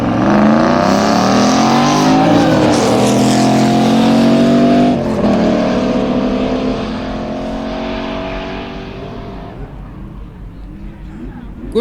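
A V8 Ford Mustang in a street drag race roars hard through rising revs, then fades as it pulls away, while a commentator talks over it.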